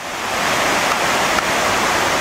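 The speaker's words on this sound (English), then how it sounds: "this is one crazy creek crossing" A rushing mountain creek at a crossing on the Mt. Hood Timberline Trail gives a steady, loud broadband roar of water, constant throughout with no talk.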